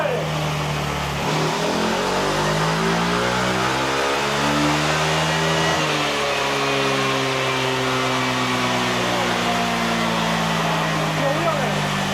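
Kymco G7 scooter with a sodium-ion battery revving hard on a dynamometer, loud rising and falling engine harmonics sweeping through two acceleration runs, with people talking over it.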